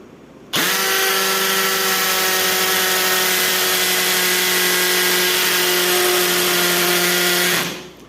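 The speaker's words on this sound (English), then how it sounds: "I'm just going to put some weight into it and then drill" An IBELL brushless cordless drill bores into a tough cement wall, starting abruptly and running at a loud, steady pitch for about seven seconds before winding down.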